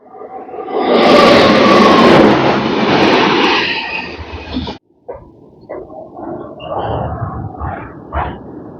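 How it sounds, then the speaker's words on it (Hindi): Passenger train rolling through a curve near Roza Junction in India, a loud continuous rumble and roar that cuts out midway, followed by rhythmic clattering and rattling of wheels, close by. "रोजा जंक्शन से पहले क्या ब्यूटीफुल कर्व के साथ अपनी ट्रेन इंटर होती है।"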